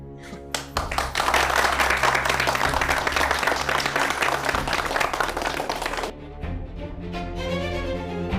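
Applause from a village audience: a dense burst of many hands clapping rises suddenly and holds loud and steady for several seconds, then drops away as music continues underneath.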